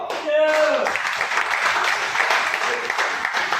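An audience at a marketing company event in Rajasthan breaks into a steady round of clapping that holds at even strength, with a voice heard briefly at the start.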